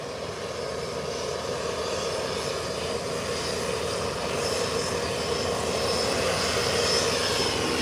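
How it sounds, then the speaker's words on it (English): Southwest airliner taxiing, a continuous loud engine roar and whine that builds slightly in strength, heard alone without any talking. "Southwest has now hit the taxiway."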